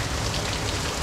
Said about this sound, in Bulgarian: кажи навънка колко силно вали